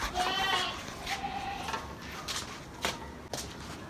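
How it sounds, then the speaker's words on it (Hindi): Goat bleating at a busy livestock market where goats are sold, several calls at mid distance over crowd bustle and shuffling footsteps. "17 किलो का माशाल्लाह ये बकरा है"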